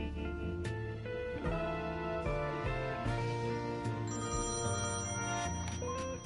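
A telephone rings repeatedly in the point-and-click adventure game Thimbleweed Park, loud and clear over the game's music.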